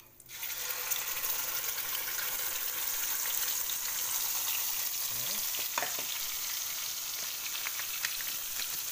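Steady, loud sizzling of blended spice paste frying in hot oil with cinnamon, continuous throughout with a few stirring scrapes partway through.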